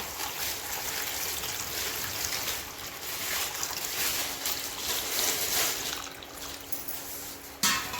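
Wheat grains being washed in plenty of water in a container, a steady swishing and sloshing of water with grain stirred by hand, close and continuous, ending in a brief knock.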